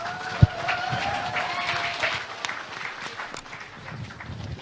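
Audience applause at a Liberty Korea Party convention candidate debate, welcoming candidate Hong Joon-pyo to the stage. A dense, steady wash of clapping runs through the whole stretch with a sharp thump near the start, no voices over it.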